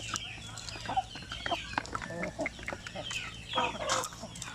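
Native chickens on a Basilan farm cluck and chatter nearby, a busy run of short calls from several birds over a low steady hum.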